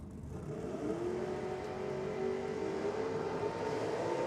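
Drag race cars, a Cortina and a Falcon, launching at Sydney Dragway during a NSW Championship evening session, a loud steady engine roar with a rising whine held throughout.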